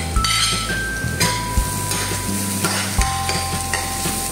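Ginger fries in oil in a pan with a loud close sizzle, punctuated by repeated clinks and scrapes of a utensil stirring against the pan.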